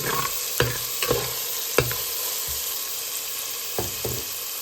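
Fish curry masala frying in a pan makes a loud, steady sizzle, punctuated by several distinct scraping stir strokes at irregular intervals, close by and with no talking.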